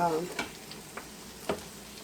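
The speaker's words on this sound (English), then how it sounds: "get my hash browns in, and I'm just going to stir it all up in the skillet and cook it" Hash browns and eggs sizzling and frying in a skillet, with a few scraping stirs of a utensil over a steady crackle.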